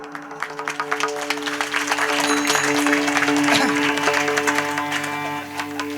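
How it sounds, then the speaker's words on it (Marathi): At a kirtan gathering, an audience claps hands loudly and briskly, a dense crowd of applause lasting several seconds, with a sustained musical drone beneath and some faint talk. "एकदा तुमच्याकडे जेवढी ताकद असेल तेवढ्या ताकदीने खणखणीत टाळी वाजवा सगळ्यांनी"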